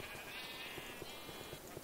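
A flock of sheep in Minecraft bleats in overlapping calls over a short stretch, with soft repeated thuds and busy game ambience underneath.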